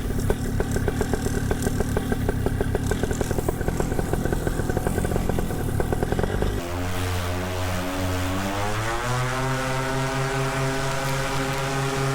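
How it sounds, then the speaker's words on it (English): A paramotor engine runs with a rapid, buzzy idle, then suddenly drops to a smoother, lower idle whose pitch slowly rises and settles, close by. "It's idling a little bit low here."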